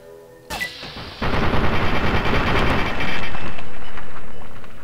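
Gunfire in Fallout 3 against a super mutant: a single sharp shot, then a rapid burst of loud, close automatic fire that swells into a sustained roaring barrage.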